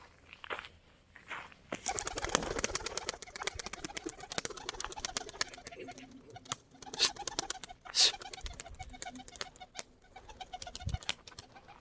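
Tumbler pigeons coo softly and repeatedly nearby, with bursts of wing flapping and a few scattered chirps over a quiet, rustling background.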